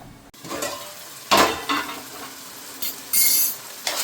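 Goat fat cooks in hot oil in a pot. A soft sizzle runs underneath, broken by several louder stirring scrapes and clatters of a utensil against the vessel.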